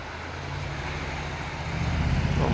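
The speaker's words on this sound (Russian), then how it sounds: "Трамвайчик едет." A tram passes along Karachevskoe highway, a continuous low rumble and road noise that swells gradually as it draws nearer, with no voices.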